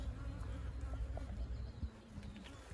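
Honeybees buzzing on hive frames during a hive inspection, a steady low droning hum with scattered brief buzzes close by, continuous and without talk.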